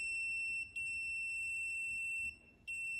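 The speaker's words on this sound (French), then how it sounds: "Quand la sonde magnétique détecte un objet fortement magnétique, l'alarme retentit en continu." An M8000 metal detector sounding its alarm, a loud, steady, piercing electronic tone that holds continuously, broken by two brief dropouts.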